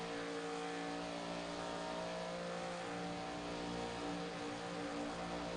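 Old Glory Gen 4 Series race car engines at full throttle on track, a steady loud droning roar with layered tones from cars running bumper to bumper, continuous with no talk.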